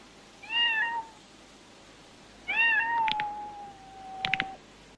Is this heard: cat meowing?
yes